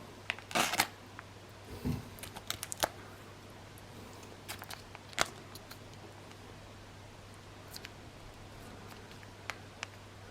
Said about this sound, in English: we'll just cut that one open as well